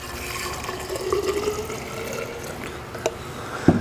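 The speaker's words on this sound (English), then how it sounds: "we're going to add a solution of 8 ounces of gasoline and 8 ounces of SeaFoam to the canister" Gasoline pours into a canister, a steady close liquid gurgle and trickle that runs on and ends with a small knock, while a mix with SeaFoam is being prepared.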